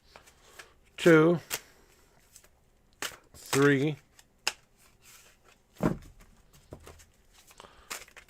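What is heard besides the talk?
shuffling tarot cards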